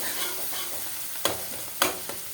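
Paneer bhurji frying in a pan, a steady soft sizzle with two or three sharp scraping knocks of a spoon stirring against the pan, close and alone.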